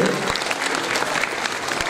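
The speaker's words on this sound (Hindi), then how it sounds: "आदरणीय दीनदयाल तिवारी बेताल जी के लिए तालियों के साथ हम अभिनंदन करें।" Audience clapping fills the short stretch, a steady dense patter of many hands from a crowd at the Bundeli Mahotsav 2023 festival stage, with faint voices mixed in.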